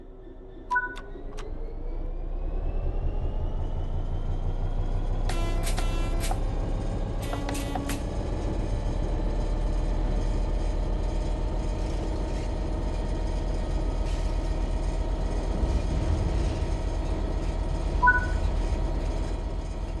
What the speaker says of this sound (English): Apply some throttle to get the train moving